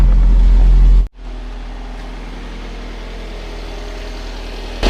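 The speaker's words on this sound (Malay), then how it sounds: "engine running normal, bro" A car engine idles steadily with a continuous low rumble, close and alone, briefly cut out near the start before resuming at the same even level, with a short rise at the very end.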